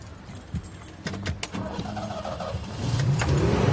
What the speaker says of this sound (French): Oh, le bruit du moteur.